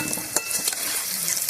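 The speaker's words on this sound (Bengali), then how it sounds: "আলুটা ভাজা হয়ে গেছে" Potatoes fry in oil in a pan, a soft continuous sizzle with light scraping and clinks of a utensil, close and fairly quiet.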